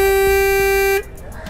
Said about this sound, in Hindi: ये है पल्सर एफ 250 के हॉर्न की साउंड